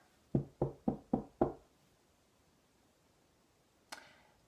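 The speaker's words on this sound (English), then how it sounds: "we hear a knock on the door" Five quick, firm knocks land in an even rhythm on a door, then after a silence a single sharper bang follows.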